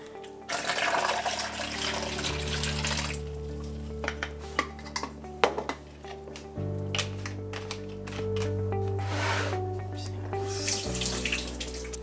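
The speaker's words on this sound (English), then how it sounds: "we're going to pour this back into the original container" Film developer being poured from a developing tank back into its original container, a liquid splashing and trickling in bursts alongside clinks and handling noises, close and fairly loud, with a low steady hum beneath.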